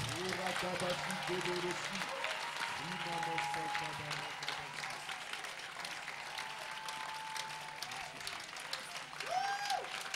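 A church congregation applauds the Holy Spirit, a continuous wash of clapping under a speaking voice that carries through the whole stretch.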